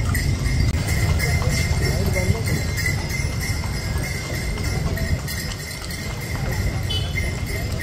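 A horse-drawn cart rolls through a busy weekend market area, its hooves clip-clopping steadily beneath constant wind-like rumble and nearby chatter.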